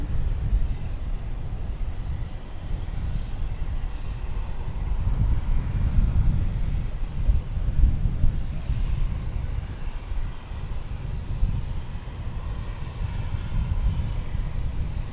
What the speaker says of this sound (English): I can't tell you other than American Airlines, and it's an A320, I believe. Maybe an A321.